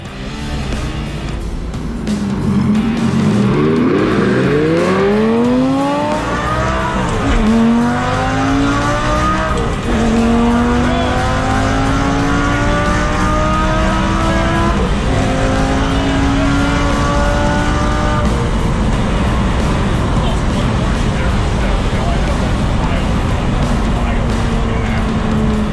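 A water-damaged Lamborghini sports car races past at full throttle, engine screaming up through the gears with sweeping pitch rises, loud and close, some tire noise beneath.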